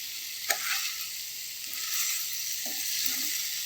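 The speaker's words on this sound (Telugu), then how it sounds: "కొంచెం ఫ్రై అవ్వాలండి" Sliced bitter gourd (kakarakaya) fries in a pan with a steady, bright sizzle, broken by a few soft stirring scrapes, with no talking.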